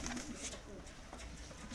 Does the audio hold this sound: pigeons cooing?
yes